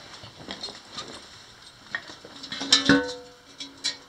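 Metal clanks and scrapes as an old frying pan is moved about in an abandoned gold mine, a few sharp rattling knocks, one louder clang near the end.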